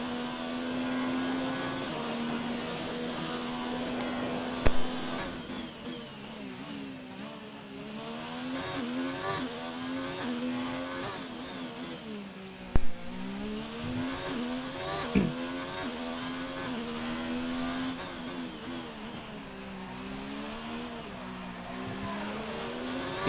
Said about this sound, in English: Let's ride on board with Invader. He's on the first timed lap of the session.